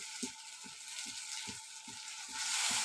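Fennel seeds and black pepper sautéing in a pan for a home-style crab gravy, with a steady bright sizzle under soft rhythmic stirring scrapes and the frying getting louder near the end.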